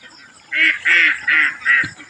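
Ducks on a duck farm, some weak and lame, giving four loud nasal quacks in quick succession, close by, with a faint background hum.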